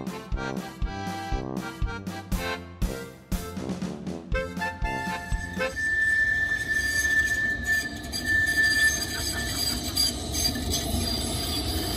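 A tram rolls past on a street in Bern, Switzerland, with rhythmic wheel clatter and a brief high metallic wheel squeal, then a steady, fairly close rumble as it moves along the rails.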